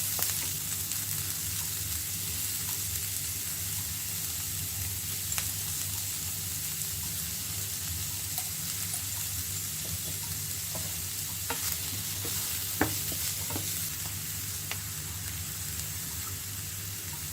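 Chopped medium onion and chili flakes frying and being stirred in a pan, a steady close sizzle with occasional scraping clicks of the spoon, continuous throughout with no talk.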